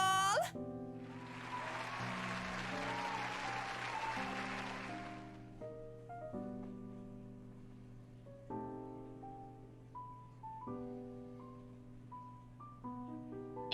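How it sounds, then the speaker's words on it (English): Brief burst of crowd applause for a singer in a horror visual novel video game, hissing loudly for a few seconds before fading into soft game music. "A round of applause!"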